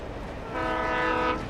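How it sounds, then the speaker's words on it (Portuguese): A train in Alan Wake Remastered sounding its horn, a steady droning tone that swells in partway and holds loud over low rumbling. "Tá vindo o trem."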